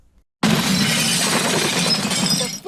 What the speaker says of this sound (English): A pickup truck smashes into a grocery store